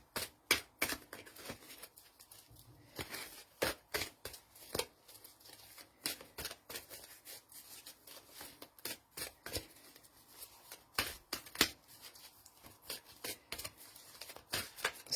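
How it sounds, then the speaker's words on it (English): Tarot cards being shuffled over and over, a steady run of crisp riffling snaps and soft flutters, close up with no talking. "I shuffle them and the cards pick you"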